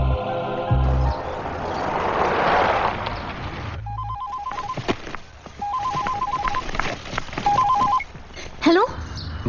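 Telephone ringing in a scene from a 2010 Bollywood action film: short electronic ring bursts repeat in clear groups, over a busy background with voices.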